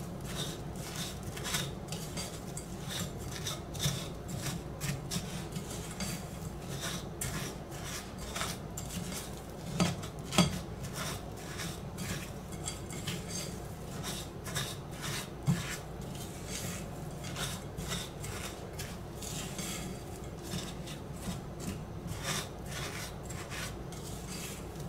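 Salt is mixed into dry cookie dough ingredients in a bowl, giving a quiet, steady rhythmic scraping and rubbing of a utensil against the bowl that continues without break and with no voices.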